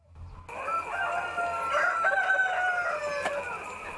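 Chickens on a Korean poultry farm, tested free of avian influenza, crow and cluck close by: a drawn-out rooster crow over a busy, continuous flock chatter with no talk.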